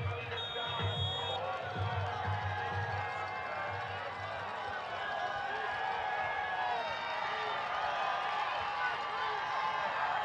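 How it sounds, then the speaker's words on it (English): Stadium crowd noise swelling steadily at a college football game between La Verne and Cal Lutheran on a third down, a broad roar that sustains throughout under an announcer's commentary. "The crowd pumping up, getting loud."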